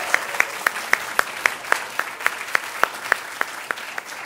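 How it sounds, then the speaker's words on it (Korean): Applause at the closing of a Seoul National University presentation competition award ceremony, with sharp, regular raps suggesting hands drumming on desks, steady and moderately close, with no speech over it. "축하 박수 부탁드리겠습니다"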